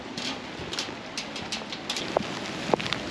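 Steady rain falling at a large train station in South Korea, a continuous broadband hiss with a few sharper drips and taps standing out near the end.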